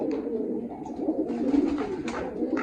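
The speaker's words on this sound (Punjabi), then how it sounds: "ਵੱਡੇ ਕਬੂਤਰ ਕਰੋ ਚੈੱਕ ਬਈ" Large pigeons kept for sale coo in low, throaty rolling calls that overlap and pulse steadily over a few seconds, close and fairly loud.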